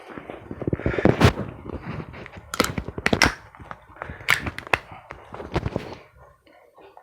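A Wilson Combat Centurion Tactical Beretta 92G pistol being cleared and checked, with sharp metallic clacks and snaps of the slide and action in irregular clusters, close and crisp.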